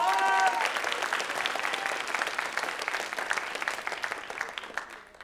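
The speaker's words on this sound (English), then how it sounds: "We got a round of applause for Rayvon." Clapping from an audience at a school writers week event, starting full and gradually thinning into scattered individual claps as it fades out, with a brief voice at the very start.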